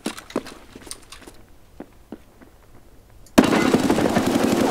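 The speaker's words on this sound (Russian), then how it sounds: "Я гранаты кидаю." Gunfire and grenade blasts in a first-person shooter game: a scatter of sharp cracks and pops at varying distances, then a sudden loud, sustained roar of an explosion filling the final second and a half.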